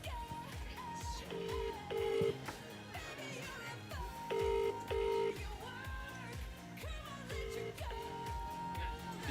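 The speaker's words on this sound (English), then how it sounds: "Can you hear that ringing?" An outgoing telephone call rings repeatedly in paired tones at regular intervals, moderately quiet, under background music at an awards dinner.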